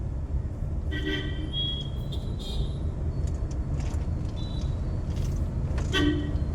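A vehicle rolls through a temple street amid repair work, its horn tooting several short times over a steady engine and road rumble, close by.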